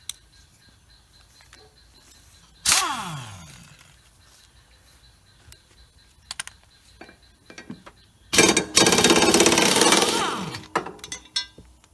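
A pneumatic air tool runs on the bolts holding the blades under a raised Exmark Turf Tracer mower. One short whirring burst is followed by a longer loud rattling run, with scattered metallic clinks between.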